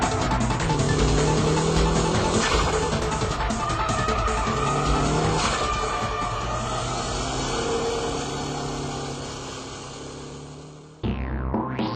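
A drifting car, throttle steady through a long slide, tires squealing continuously over loud engine roar, with the noise easing toward the end before an abrupt cut.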